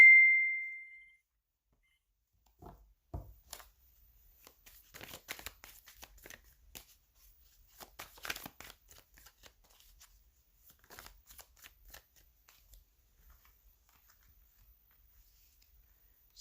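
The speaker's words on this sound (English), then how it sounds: "Just want to put some cards down on the table here before I get going." A deck of tarot cards is shuffled and set down on a table. There is a brief ring at the start, then soft, scattered riffling, tapping and slapping of cards close by in irregular bursts that stay fairly faint throughout.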